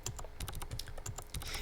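Fast, steady keystrokes on a computer keyboard during a Typing Club typing exercise, with close, crisp clicks in a continuous run and no talking.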